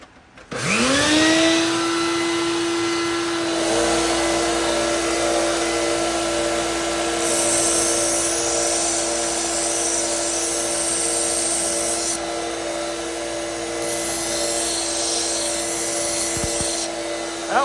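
A belt grinder with a Cubitron belt sharpening a knife spins up into a loud, steady whine and roaring hum, with stretches of harsher hissing grind as the blade meets the belt.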